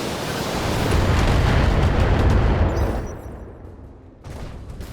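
Heavy weapon fire from battling mechs in the BattleTech strategy game, a loud sustained rumbling barrage of blasts that peaks early, then fades toward a quieter tail with a second smaller burst near the end.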